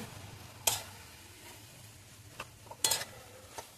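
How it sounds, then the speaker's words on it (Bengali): Fried prawns being stirred into a banana-flower vegetable curry in a pan, with a few sharp spoon scrapes and clinks spaced over a soft, steady sizzle, close and fairly quiet. "চিংড়ি মাছগুলো একটু মিশিয়ে নেব।"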